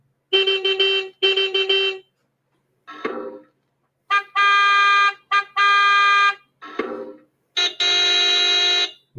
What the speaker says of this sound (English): the bell for this car is actually the sound of arming the alarm system on the automobiles